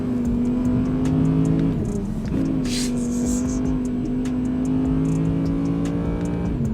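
An Audi R8 V10 Performance coupe engine drives around a track, a loud steady droning tone that shifts pitch through gear changes, with faint clicks and whooshes and no voices.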